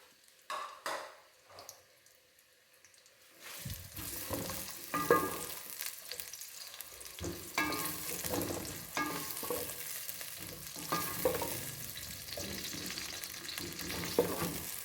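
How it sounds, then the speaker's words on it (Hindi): Sliced onions fry in hot oil for chicken biryani. A few sharp clicks come first, then a loud, steady sizzle with stirring scrapes runs unbroken to the end, with no talk. "प्याज को हम बहुत ज़्यादा फ्राई नहीं करेंगे"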